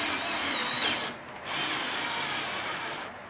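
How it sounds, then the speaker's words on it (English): A high whining drill on a mill bores into metal, running steadily, dipping briefly, then resuming its grinding whir, close and loud with a faint metallic squeal. "Now I'm lifting up on the drill"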